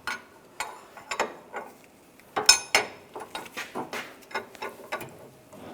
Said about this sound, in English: 24mm wrench on the bolt